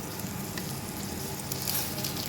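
Dense, steady sizzle of peppers and eggs roasting in a hot pot on a low gas flame, a close, continuous frying hiss with faint crackles and no talking.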